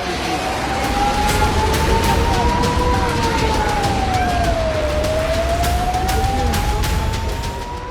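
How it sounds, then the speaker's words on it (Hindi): An air raid siren wails steadily across Israeli border areas, its pitch rising and falling slowly over a constant roar of background noise, loud and continuous from start to end. "सीमा से सटे इलाकों में लगातार सायरन बजते रहे।"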